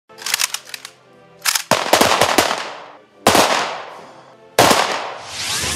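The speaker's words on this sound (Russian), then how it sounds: "залповый выстрел" Several loud rifle volleys fired in unison as a Victory Day salute, each sharp crack followed by a long echoing decay, spaced a second or so apart outdoors.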